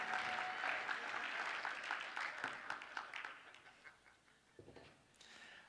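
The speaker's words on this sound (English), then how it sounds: "then everyone gives an applause" Applause for Dave Weiss at a Flat Earth conference: a fairly quiet crowd of clapping that thins out into scattered individual claps and dies away, with a brief pickup near the end.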